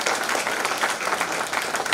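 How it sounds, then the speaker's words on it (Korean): Audience applause after a university professor's public lecture in Korea, a dense, steady wash of many hands clapping close by for the full two seconds with no pauses. "오창환 교수님께 뜨거운 박수 부탁드립니다."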